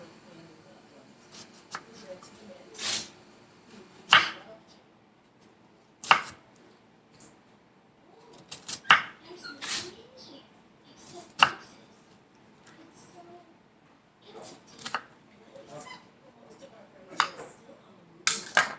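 A kitchen knife slices onions into thin strips on a board, sharp irregular cuts spread out with pauses between them, close up, while someone talks now and then.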